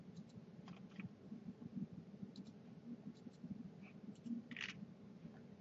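Light typing on a computer keyboard, soft scattered key clicks in short bursts over a low steady hum, faint and close with no one speaking.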